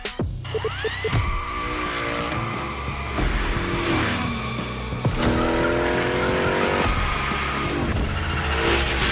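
Car sliding through drift turns in the racing video game The Crew Motorfest, with a loud engine revving hard and tyres squealing in repeated skids over roughly nine seconds, no talking.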